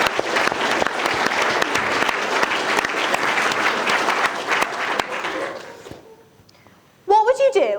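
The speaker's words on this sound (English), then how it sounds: "a big adrenaline shot of applause, please, for our first FameLab finalist" Crowd at a school science-communication competition final applauds the first finalist, loud dense clapping that fades out over several seconds before a voice begins speaking.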